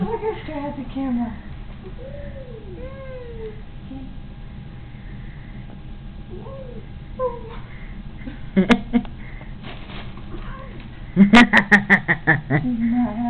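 An upset cat that has got stuck gives drawn-out, wavering meows and low growls, close and moderately loud, mixed with people's talk and chuckles and a few sharp clicks.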